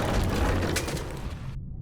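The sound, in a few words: explosions in video game 20,000 Leagues: The Shape of Fantasy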